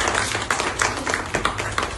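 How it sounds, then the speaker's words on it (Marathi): A crowd of parents and guests applauds the teachers at a pre-school gathering in Katraj, Pune, with brisk, uneven clapping that fills the whole moment at moderate loudness. "त्याबद्दल जोरदार टाळ्या वाजवायचा टीचरांसाठी"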